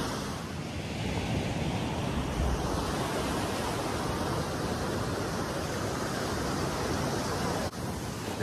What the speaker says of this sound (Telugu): వెదర్తో పాటు ఆ అలలు చాలా చాలా అంటే చాలా బాగుంది